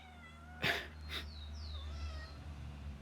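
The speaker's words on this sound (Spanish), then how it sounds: "Es el gato maullando." Indoors, a cat lets out a couple of short meows followed by thinner rising and falling cries, fairly faint over a low steady hum, with no talking.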